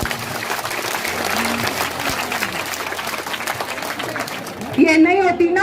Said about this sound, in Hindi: एक बार ताली राधा जी के लिए